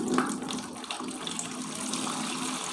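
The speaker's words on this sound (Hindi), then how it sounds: "तो अब मैं इसमें से पानी लेता जाऊँगा और इसमें इसको छानता जाऊँगा।" Liquid compost made from dung cakes is poured through a sieve, a steady continuous splashing and trickling stream that runs without pause, close and moderately loud.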